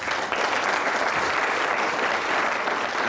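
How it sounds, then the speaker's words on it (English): Steady, full applause from a pool tournament audience in a televised match venue continues unbroken throughout, with no talk over it. "that really is deserved applause, that, for Charlie"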